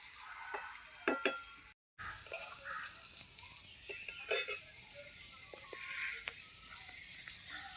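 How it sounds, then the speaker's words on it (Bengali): Potatoes frying in a wok of oil left from frying fish give a faint, steady sizzle with scattered clinks and stirring scrapes, plus a brief spoon or utensil tap near the middle. "যেই কড়াইতে মাছ ভেজেছিলাম যেই তেলে ওই তেলের মধ্যেই আমি আলুগুলো ভেজে নিচ্ছি"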